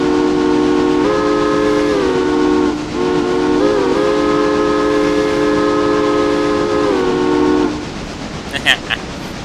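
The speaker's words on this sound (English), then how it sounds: "Think about steam engines." A steam train whistle blows in long sustained chords, briefly breaking and resuming, over a steady rumble of the moving locomotive, loud and close.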